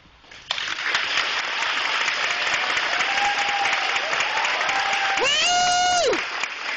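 A crowd claps steadily through a morning assembly at an elementary school, a dense wash of applause filling the room, with a brief whistle or cheer rising near the end.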